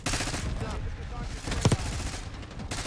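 Rapid automatic gunfire rattles continuously in a dense burst, with a louder crack partway through and voices underneath.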